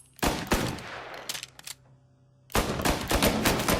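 Bursts of gunfire in Mafia Definitive Edition: a couple of sharp shots, a few scattered pops, a near-silent pause, then a loud rapid volley of automatic fire, heard up close with no voices.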